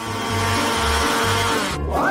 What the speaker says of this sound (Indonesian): Aku akan melakukannya dengan cepat menggunakan mixer tangan ini.